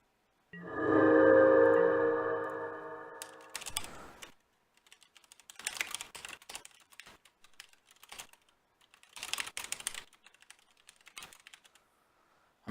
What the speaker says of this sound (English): I'm typing when I could just be talking